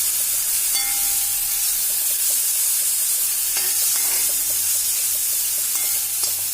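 Ground spice paste stirred into drumstick leaves frying in a pan, a steady loud sizzle and hiss with soft scraping stirs throughout and no voices.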